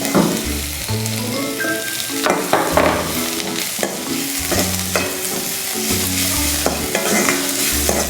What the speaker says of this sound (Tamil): இது வெங்காயம் வந்து நல்லா வதங்கணும்.